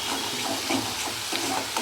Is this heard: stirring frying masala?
yes